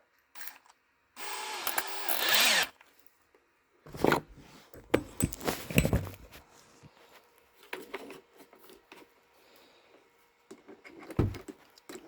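A power drill fitted with a flathead screwdriver bit whirs in a loud burst of a second or so and spins down, followed by scattered clicks and short mechanical rattles.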